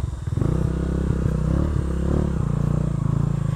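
A motorcycle rides along a rocky creek route in Bataan, its engine droning steadily close by with clattering and scraping from the rough ground, continuous and loud throughout.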